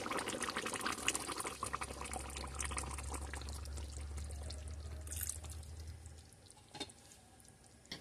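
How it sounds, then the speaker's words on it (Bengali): Water is poured into a simmering beef curry in a pan, making a steady close gurgling pour for about six seconds before it stops and the quiet bubbling carries on. "এখন সামান্য পরিমাণে একটু ঝোলের পানি দিয়ে দিব।"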